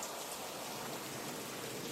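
Steady, dense rain of a storm pours without pause, a broad even hiss filling the scene in an audio drama, with no voices or other sounds cutting through.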